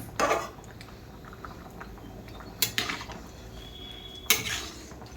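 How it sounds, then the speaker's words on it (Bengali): A cooking pot with lentils and potatoes boiling inside: three sharp metallic clanks as the lid is handled and lifted, spread over about five seconds, close, with a quiet kitchen hum between them and no talking. "তো এবার আমি ঢাকা তুলে দেখছি।"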